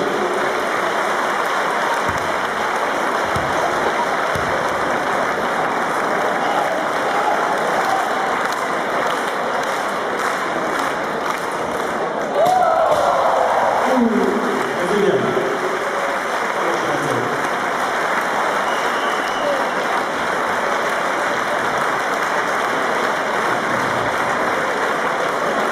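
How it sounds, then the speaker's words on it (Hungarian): A large live audience at an acrobatic basketball show applauds a brave young boy volunteer, with loud, dense, sustained clapping that carries on unbroken for the whole stretch, swelling slightly about midway. "Tapsoljunk meg a bátorságáért"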